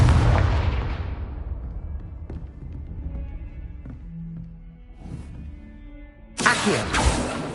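A Confringo blasting spell bursts in the Hogwarts Legacy video game: a loud booming blast that decays over a couple of seconds, scattered quieter effects, then a sharp, bright burst near the end.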